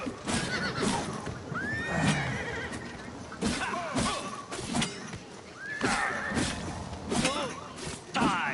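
In The Elder Scrolls IV: Oblivion Remastered, a horse whinnies twice amid clattering hooves and scuffling game sounds, with a voice talking over parts of it.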